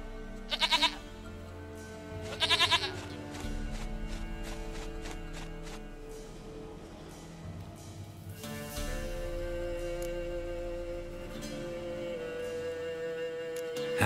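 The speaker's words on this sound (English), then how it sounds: "Goat of mine, dearest, sweetest goat." Goat bleats from The Witcher 3: two loud bursts of bleating near the start, followed by a game soundtrack with music and footsteps running underneath.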